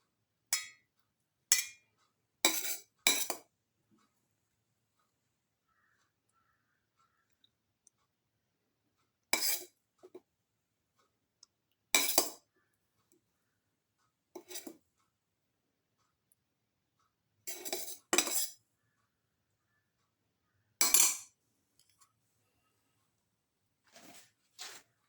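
Cooled coconut, shallot and tomato mixture spooned into a grinder jar: sparse, sharp clinks and taps of a spoon against the jar, separated by long silences.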